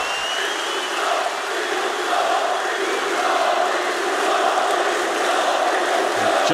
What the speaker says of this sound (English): I don't think we've ever in esports had a crowd like this.